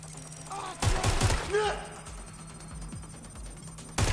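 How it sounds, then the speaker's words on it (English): A quick volley of gunshots in Watch Dogs: Legion, three sharp close reports in a row, then a lone shot near the end, with game voices between them. "Target is firing"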